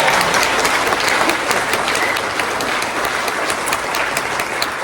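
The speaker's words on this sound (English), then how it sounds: "Let's give them a round of applause." An audience applauds at the Hawaii Cannabis Awards ceremony, a dense, sustained wash of many hands clapping at once that continues evenly for about five seconds.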